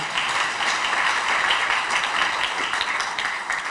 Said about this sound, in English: Let's give the director another round of applause